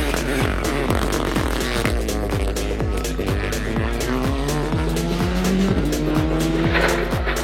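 A Renault Clio Rally3 rally car brakes hard and slides on an autumn stage in Vaucluse, with a loud close engine revving up and down and tires skidding and scrubbing through the slide.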